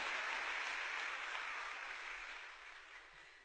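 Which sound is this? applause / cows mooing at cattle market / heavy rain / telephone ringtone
applause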